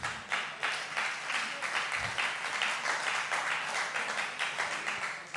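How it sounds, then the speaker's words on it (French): Audience applause fills a hall in a steady, dense patter of many hands clapping, fairly distant and even throughout, with only faint voices beneath. "même les femmes, elles ont applaudi"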